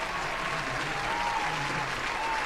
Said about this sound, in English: A round of applause for him.